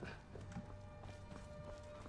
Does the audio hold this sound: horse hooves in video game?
yes